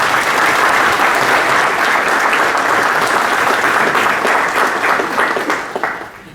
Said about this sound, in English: Please welcome our esteemed guest with a huge round of applause.